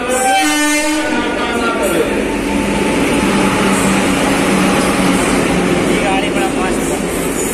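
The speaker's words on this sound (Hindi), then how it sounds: "देखिए ये ट्रेन आ गई है one three to four one Banka Rajendra Nagar intercity" The Banka–Rajendra Nagar intercity train, number 13241, rolls in at a station with loud continuous rumble and wheel noise, a horn sounding near the start, and a voice talking over the din.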